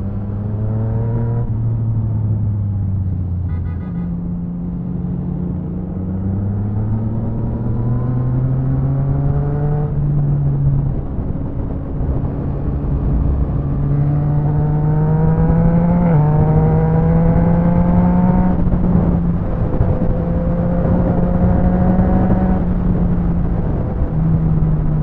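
A Yamaha MT09 motorcycle fitted with an Akrapovic exhaust roars close up while riding, its engine note repeatedly climbing through revs and dropping between gear changes, loud and continuous throughout.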